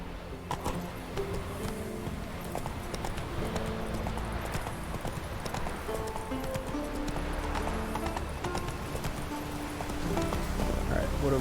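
Roach the horse from The Witcher 3 gallops with steady, rapid clip-clop hoofbeats on the ground, continuous and fairly close throughout, with a brief whinny-like sound and game ambience underneath.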